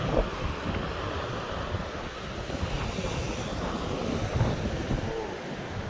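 Strong gusting wind sweeps across an open seashore, its steady broadband roar close to the microphone and buffeting it throughout, with no voices.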